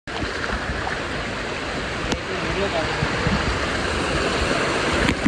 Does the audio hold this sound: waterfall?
yes